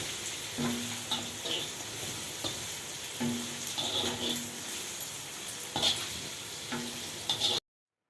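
Bitter gourd pieces fry in a few spoons of oil, giving a steady sizzle with occasional scrapes and stirring clatter, heard close and alone with no talk.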